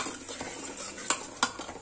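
A Marathi phodni tempering is stirred in a pan for a brinjal and potato bhaji, with soft scraping strokes over a gentle sizzle and two sharper utensil clinks near the end, fairly quiet and without voices.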